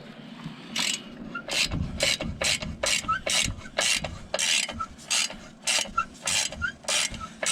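A socket ratchet clicks in rapid, regular bursts while working on the front brakes of a 1994 Sonoma pickup. The sharp clicking strokes repeat steadily at close range over faint background noise.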